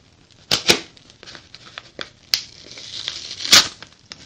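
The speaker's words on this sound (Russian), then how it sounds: "маленькая посылка, которая стоит 73 цента, она шла 17 дней. Давайте распакуем." Crinkling plastic packaging from a small parcel from China, a grey bubble-lined mailer, being handled and opened up close, with sharp crackling bursts over a steady rustle.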